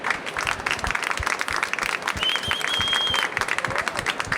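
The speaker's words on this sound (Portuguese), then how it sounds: "Uma salva de palmas para a Fábia." An audience at a leadership talk on artificial intelligence bursts into sustained applause, dense steady clapping filling the room from start to finish, with a faint whistle-like tone partway through.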